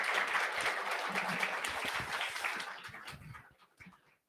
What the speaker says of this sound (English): Guys, can we have a huge round of applause again, please?